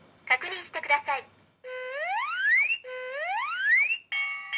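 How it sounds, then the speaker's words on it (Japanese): A short burst of synthetic Japanese speech from a wall-mounted gas alarm gives way to repeated electronic alarm tones that sweep upward in bright, rising whoops, clear and close. "火災警報器が作動しました。確認してください。"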